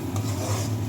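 Tomato paste being stirred and sautéed in a Bengali fish curry, a short soft scraping rub of a spoon over a low sizzle, close up and with no voices.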